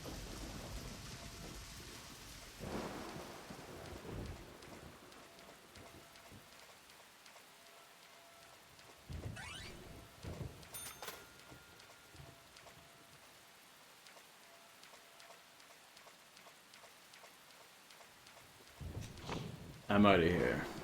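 Steady rain patters throughout in the video game Deadly Premonition, with a few low rumbles of thunder and brief louder bursts. Near the end, a voice briefly speaks over the rain.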